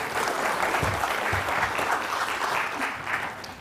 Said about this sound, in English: giving her a round of applause